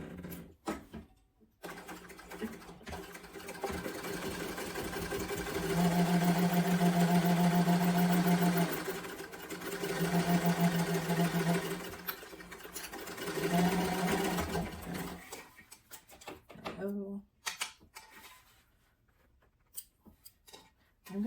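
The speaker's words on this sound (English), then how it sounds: "we're going to go ahead and sew it" A domestic sewing machine runs in three bursts, stitching across the top of fabric pieces for a sling bag, with quiet pauses between runs and brief handling noises before and after.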